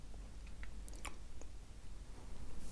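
Crisp bites and chewing of a structured, crumbly food that breaks into pieces in the mouth, a few sharp crunchy snaps up close over a quiet background.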